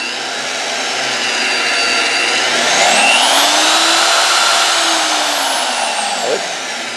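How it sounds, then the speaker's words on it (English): A loud electric drill whines, its motor pitch climbing, holding high, then dropping as it bites into a big block Chevy engine block, with no talking. "I ought to be able to drill a few holes in an engine block"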